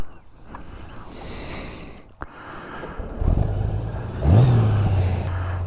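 A 2018 Honda Gold Wing motorcycle riding out, its engine building from a low hum into a steady, fairly loud drone with rising revs, wind rushing over it, no talk.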